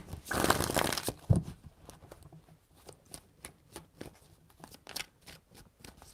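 Tarot cards are shuffled by hand: a loud burst of riffling at the start, then a series of crisp, separate flicks and taps spaced out, close and clear with no talking.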